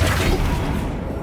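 A Flipendo spell is cast in Hogwarts Legacy as a loud, broadband whooshing blast that is strongest at the start and then thins out over a second, with no speech.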